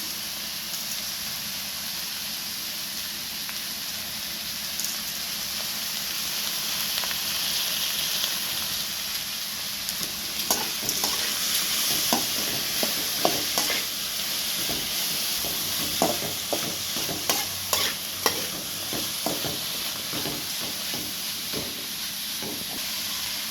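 Ivy gourd (kovakkai) sautéed in a pan with turmeric and salt, a steady close sizzle with scraping stir strokes and clinks growing more frequent and sharper over the second half.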